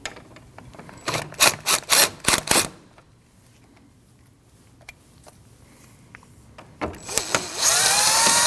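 Power tool working on the two 13mm nuts holding the AC lines at the radiator of a 2013-2019 Ford Escape 1.5L: several loud, close bursts of whirring and rattling, then a quiet stretch, then another long, steady burst, with no talk.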